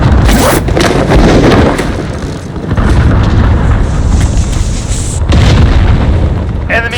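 An enemy cruise missile slams down in Modern Warfare Ground War, producing very loud, booming explosions with a rumbling roar that swells, dips briefly and then erupts again, dominating the scene.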